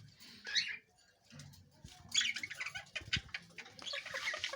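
A ringneck parrot about two years old gives short, sharp calls in scattered bursts with bouts of wing flapping. The sounds are close but fairly quiet over low background noise.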